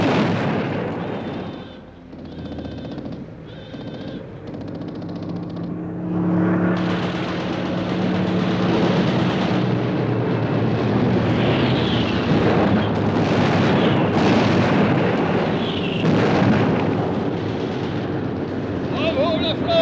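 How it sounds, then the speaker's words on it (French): Bombs exploding in a wartime bombardment: heavy rumbling blasts and a continuous roar of destruction, loud and broad, with people's voices under and between the explosions. "C'était une bombe, on nous bombarde!"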